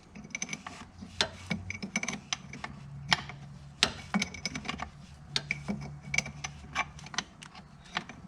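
A wrench tightens an AN fuel fitting while an E85 system is fitted to a Pontiac G8, giving a quiet run of irregular clicks, ratcheting ticks and small metallic knocks, close by and with no voices.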